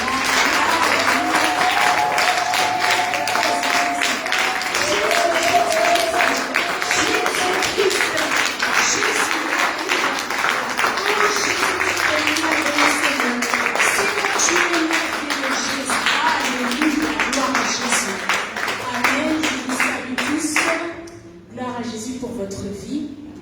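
A church congregation applauds and cheers during a Sunday service, sustained loud clapping from a large crowd with voices mixed in, fading and thinning out near the end.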